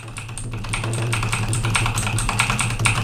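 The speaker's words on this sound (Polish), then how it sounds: "klikaj tylko tak W, tak, klik, klik, klik" A computer keyboard is tapped rapidly and repeatedly, one key pressed over and over in quick clicky bursts close to the mic, over a low steady hum, with no talking.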